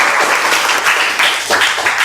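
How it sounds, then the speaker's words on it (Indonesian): Audience applause at a university lecture session, a steady, dense patter of many hands clapping for about two seconds, loud and close, with no talking over it. "Oke, aplaus untuk temannya."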